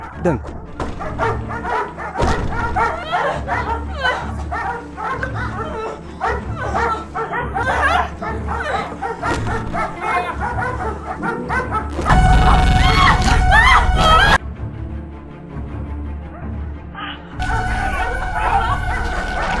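An agitated wild dog barks, yips and whimpers repeatedly in a cage, with sharp bangs where it throws itself against the bars, while a narrator talks over much of it.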